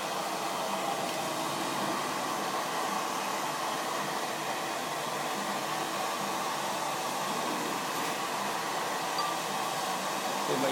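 A hair dryer blows steadily and close at hand while hair is being blow-dried in a salon. The airflow is an even, continuous rushing hiss with no pauses, and nobody talks over it.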